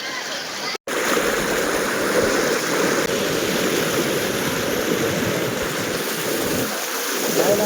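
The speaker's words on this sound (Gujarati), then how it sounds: "તમે ખાલી ફૂલ તેજી સાથે આવી રહ્યું છે પાણી" The flooded Malan river in Mahuva rushes fast through a street, a loud, dense, continuous roar of torrential water, broken only by a brief cutout near the start.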